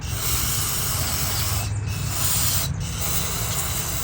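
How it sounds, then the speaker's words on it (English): A steady, close hiss of cleaner sprayed onto a dirty Echo SRM2400 trimmer carburetor continues throughout, broken by two brief pauses, with no talking. "just kind of spray all this down real good"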